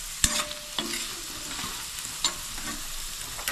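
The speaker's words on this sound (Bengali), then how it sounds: "এখন আমি এর মধ্যে ব্রাউন সুগার মেশাচ্ছি" Brown sugar is stirred into a hot pan of chhanar dalna base, giving a few sharp spoon scrapes and taps over a soft, continuous sizzle of frying.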